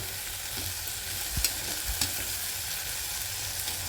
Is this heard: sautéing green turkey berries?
yes